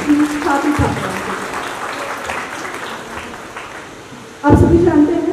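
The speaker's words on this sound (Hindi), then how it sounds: "एक बार जोरदार तालियां हो जाए आप सभी छात्र छात्राओं को।" A burst of applause from a crowd of students at a school annual day function swells near the end after a stretch of murmuring, loud and close, with a voice heard earlier.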